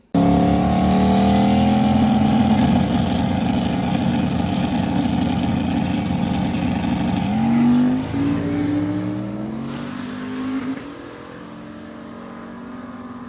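A drag car launches in first gear and accelerates down the strip, its engine roaring loud and steady before the pitch sweeps upward through a shift and the sound fades into the distance.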